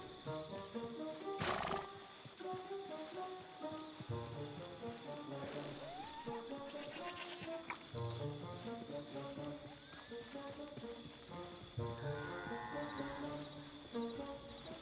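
Video game horse sounds: a loud whinny, then clip-clopping hooves in a steady rhythm, with further neighs over a faint musical background and no talking.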